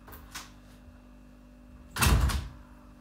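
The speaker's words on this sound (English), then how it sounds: "I wanted to close my door." A door being shut: a single solid thud-like bang around two seconds in, after a faint earlier rustle over low room hum.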